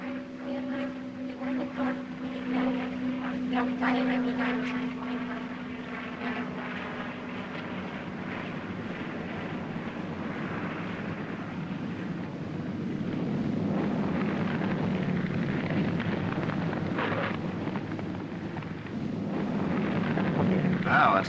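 A P-51 Mustang fighter comes in to land, its piston engine droning steadily at moderate distance with a low rumbling tone that swells toward the end, under a faint wash of background noise.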